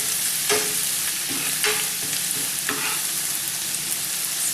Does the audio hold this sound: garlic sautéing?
yes